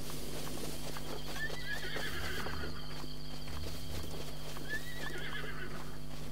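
Horses whinny twice in Zelda: Breath of the Wild, clear neighs set over a steady background of clip-clopping hooves and a constant low game hum, with no voices.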